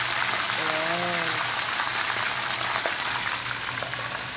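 A two-kilo fish, too big for the pan, fries loudly in oil with a dense, continuous sizzle close by. A voice speaks briefly early on.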